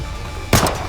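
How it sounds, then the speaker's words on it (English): Gunfire from the video game Goddess of Victory: Nikke, a sudden loud burst of shots that cuts in halfway through after a low ambient hum, close and harsh with a ringing tail. "Wait! Stop shooting!"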